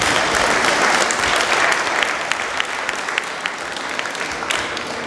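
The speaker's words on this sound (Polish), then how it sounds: "Prosimy o brawo." An audience claps at a school year-end ceremony, dense steady applause from a crowd that holds strong for a couple of seconds and then gradually thins and softens.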